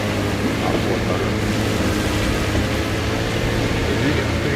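Outboard motor on a boat in the survival game DayZ, running steadily and loudly throughout with a continuous low drone and broad wash of water noise, no pauses.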